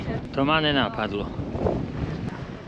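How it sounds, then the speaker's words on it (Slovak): Strong wind gusts steadily across an outdoor hiking trail on Madeira with a farm in the distance, roaring into the microphone as someone speaks over it. "A riadne fúka."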